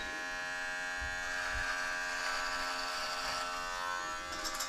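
Skull Shaver Beast electric clipper buzzing steadily and close while trimming a beard, a continuous motorized hum with a slight tremble that carries through the whole clip and tapers near the end.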